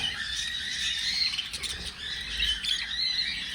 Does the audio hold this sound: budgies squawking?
yes